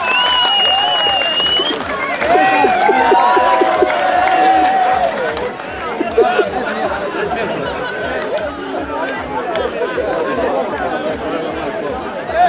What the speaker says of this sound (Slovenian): Pa dajmo malo zaplaskati publika